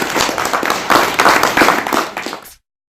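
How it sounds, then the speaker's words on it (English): Lively applause fills a London function room as attendees clap for themselves, dense and close for a couple of seconds before cutting off abruptly. "I'd like you to give yourselves a round of applause for coming here"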